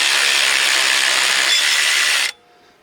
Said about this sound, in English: We're going to use our electric impact, or our electric ratchet.